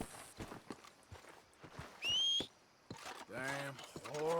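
Horse hooves clop in a rhythmic walking pattern within the video game Red Dead Redemption 2, mixed with a horse's whinny and bursts of talk over the game audio.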